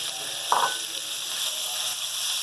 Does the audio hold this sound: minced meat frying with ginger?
yes